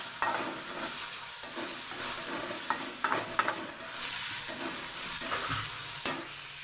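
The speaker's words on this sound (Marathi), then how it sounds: "टोमॅटो पण चांगला परतून घ्यायचं" Tomatoes sauté in a pan with a steady, close sizzle broken by repeated scraping stir strokes, with no voices.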